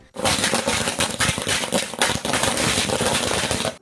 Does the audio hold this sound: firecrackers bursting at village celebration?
yes